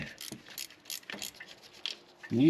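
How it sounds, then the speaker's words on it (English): A ratcheting wrench turns a bolt on a 2003-2009 Toyota Camry transmission, making quick close clicking bursts in uneven runs, with a brief heavier metallic clunk at the end. "I'll be a little faster with a ratcheting wrench."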